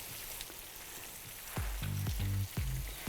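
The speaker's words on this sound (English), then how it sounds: "let's get that chicken sizzling" Chicken hits an oiled pan over fierce heat indoors, and a soft hiss builds into a brighter, crackling sizzle that comes in two or three bursts, close up and with nobody talking.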